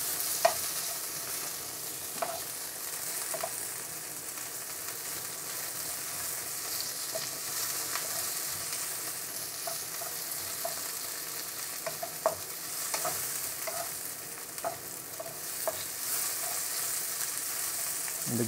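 Chicken chow mein vegetables and garlic stir-fry in hot oil, a steady soft sizzle punctuated by scattered clicks and scrapes of stirring throughout, with no voices.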